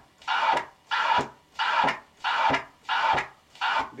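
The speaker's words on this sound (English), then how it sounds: "Cutting with the fader." Six evenly spaced DJ scratch strokes on a turntable, each cut off sharply by the crossfader, giving a steady, loud, chopped rhythm with no voice.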